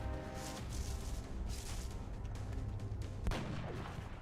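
Marksman rifle fire in the video game Long War, with several muffled booming shots and one sharper report near the end, heard at low level with no talk.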